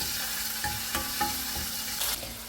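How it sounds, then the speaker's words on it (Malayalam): Spring onion thoran being stirred in a hot pan, a steady sizzle broken by several scraping stirs of the spoon, close and fairly loud with no talking. "നമുക്കൊന്ന് ഇളക്കി കൊടുക്കാം"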